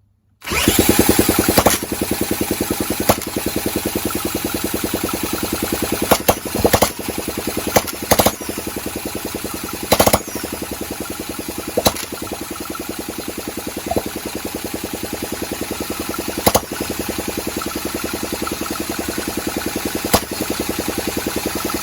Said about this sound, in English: I got the engine to pop quite a few times, as you'll have just seen